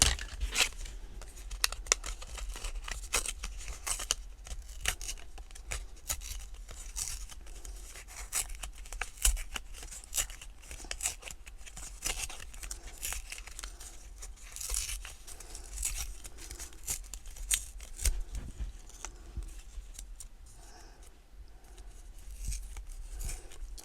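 Paper for a scrapbooking card is torn by hand in a run of quick, close rips and crinkles, soft and intermittent, with brief pauses between tears.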